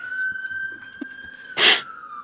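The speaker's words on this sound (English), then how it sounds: "I'm gonna wait for that siren to pass" An emergency vehicle siren passes outside, a steady high wail running through the whole stretch, with a brief louder burst near the end, heard faintly from indoors beneath a quiet room.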